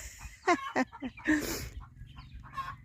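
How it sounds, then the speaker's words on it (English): A hen clucks after laying an egg, with a few short, fairly close calls in quick bursts, then fainter cackling, in a quiet garden setting. "Chicken just laid an egg."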